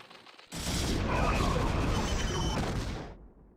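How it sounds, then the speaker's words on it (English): A Zerg hatchery blows up in StarCraft, a loud sustained burst of crackling, booming explosion noise lasting a few seconds before cutting off abruptly. "Uh-oh, hatchery explosion!"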